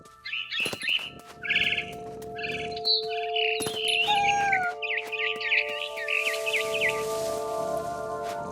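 A barn swallow chirps near its nest in What Remains of Edith Finch, with rapid trills and short tweets repeating throughout over a sustained musical drone and ambient game background.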